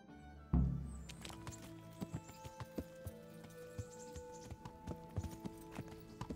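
A horse's hooves clip-clop steadily in the medieval game Kingdom Come: Deliverance, a sharp thud at the start followed by an even, moderately close walking rhythm of hoofbeats over a soft background.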